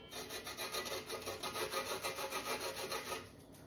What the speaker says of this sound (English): This is like the cheese grater side.